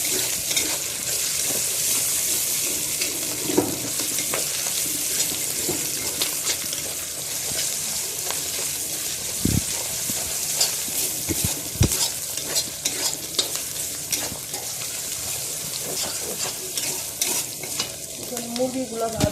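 Ginger, garlic and cardamom paste fries in a pan with browned onions for a chicken bhuna, giving a steady close sizzle with frequent stirring scrapes and a couple of sharp utensil knocks throughout, with no talking.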